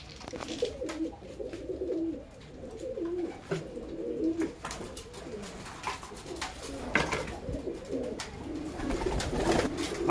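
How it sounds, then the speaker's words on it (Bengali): Pigeons coo steadily while being fed, a dense chorus of soft, throaty calls close by, with occasional wing flutters and light scuffling, and no talk. "পায়রা সব মজা করে খাচ্ছে"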